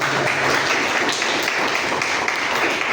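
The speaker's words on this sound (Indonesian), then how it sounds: "Kasih tepuk tangan." A classroom or lecture audience gives a short round of hand clapping, a steady moderate patter of many hands with no talking over it.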